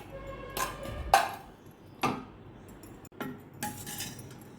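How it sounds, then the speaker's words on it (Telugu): Metallic clinks and knocks of a pressure cooker lid being opened after cooking horse gram: several sharp, separate clatters spread over a few seconds, fairly close, with no talking. "మూత తీస్తే"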